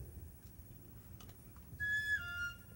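A clear two-note whistle, a higher tone dropping to a lower one, sounding alone over quiet room noise.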